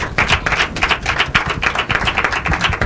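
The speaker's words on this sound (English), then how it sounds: "A warm round of applause." Applause from an audience at the Ogiame Atuwatse III Intercollegiate Quiz and Debate Competition, a fairly loud, steady patter of hand claps over about three seconds with no talk.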